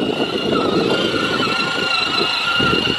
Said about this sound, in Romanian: Să vedem dacă merge motocicleta?